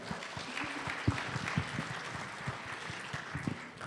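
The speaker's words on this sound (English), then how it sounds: "Let's give a warm round of applause to Mr." Scattered applause from an investor summit audience, steady and moderately distant, with individual claps standing out over a soft crowd bed.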